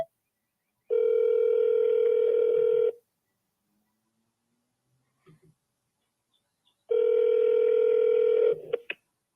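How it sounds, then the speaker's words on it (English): Two long, loud steady electronic telephone tones, each about two seconds, separated by near silence with a few faint clicks, as on a voicemail system signalling the start of recording. "At the tone, please record your message."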